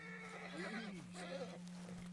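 Agitated horse whinnying and neighing in the video game Red Dead Redemption 2, a close, loud neigh with clip-clop hoofbeats over a steady low hum.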